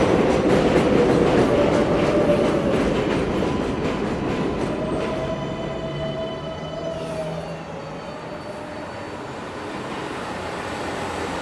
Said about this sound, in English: This 7 line, it comes pretty quickly.